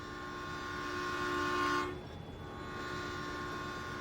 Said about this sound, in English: we have the train coming through here, so we'll have to wait at the train crossing